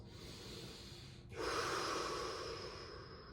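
Slow, relaxed breathing during a yin yoga pose: a soft nasal breath, then a fuller, louder exhale that trails off, heard up close with no talking.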